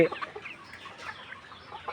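A sick hen suffering from watery, pus-filled, closed eyes gives soft, close clucking calls in a brief, low-level stretch with faint background noise.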